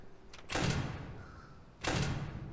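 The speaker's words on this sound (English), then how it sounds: "I keep hearing doors." Two door sounds in a Minecraft FNAF roleplay game, each a sharp bright sliding-and-thud burst, the second about a second after the first, fairly close with no talk.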